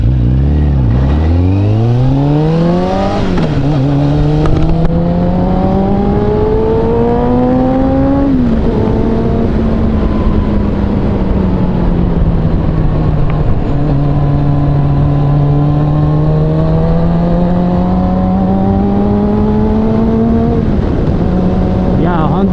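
Kawasaki ZZR400 motorcycle on a test ride after a front fork overhaul, its engine loud and close, climbing and falling in pitch through several gear changes, with steady wind noise throughout.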